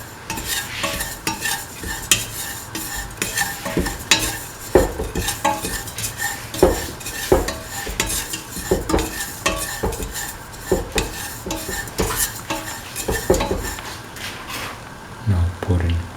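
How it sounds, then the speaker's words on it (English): A spoon stirs dates into golden-brown toasted semolina in a pan, scraping and clinking against the metal in a steady, busy rhythm, with a faint sizzle underneath and close, fairly loud scrapes throughout. "dates in the semolina together until they are nicely incorporated"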